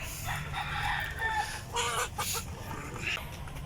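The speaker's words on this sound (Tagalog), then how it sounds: "nandito na mga kaputak yung ating mga alaga" Rhode Island Red chickens cluck in short bursts around a rooster on a farm range, bright calls rising and falling close by with no voices over them.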